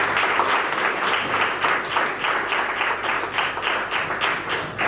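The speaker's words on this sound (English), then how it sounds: "I think that we deserve a big applause." Audience at a health briefing applauds, dense steady clapping from many hands lasting about five seconds, with no talk over it.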